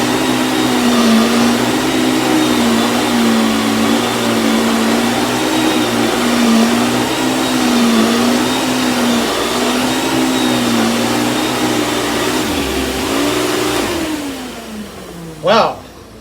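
A Hoover Power Max S3607 upright vacuum runs steadily on carpet with a loud, close motor drone and whine, then winds down near the end with a brief clatter.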